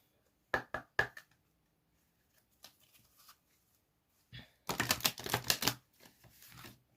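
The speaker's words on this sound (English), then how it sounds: "quick shuffle" A deck of Keepers of the Light oracle cards gets a quick shuffle, a few sharp taps followed by a dense riffling burst of cards, close and fairly quiet.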